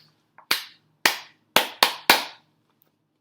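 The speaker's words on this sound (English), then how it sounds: "Clap, clap, clap, clap," Five sharp handclaps ring out close and alone in a quiet room, spaced unevenly with the last three coming faster.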